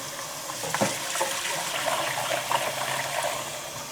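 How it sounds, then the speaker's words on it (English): Rice being rinsed in water, giving a steady close wash of running and splashing water with a few soft knocks. "I'll rinse this rice off really well, get all the extra starch off of it"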